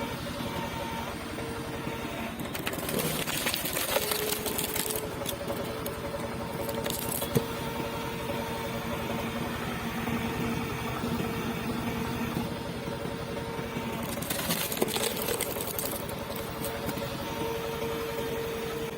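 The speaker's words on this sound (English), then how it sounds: "The machine continues its rhythm, relentless, accurate, one push after another, one clean split at a time." A large hydraulic wood splitter runs with a steady engine drone while it splits logs, with sharp cracks and clattering bursts as pieces break and fall, close and without talk.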